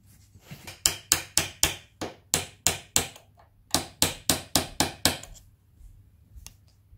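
A tool taps a nut tight on a Scotts steering stabilizer bracket for a Yamaha T7 motorcycle, giving sharp, close metallic knocks in quick bursts of four or five with brief pauses between.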